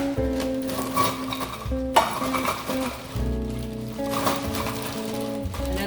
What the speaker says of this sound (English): So a cup of frozen broccoli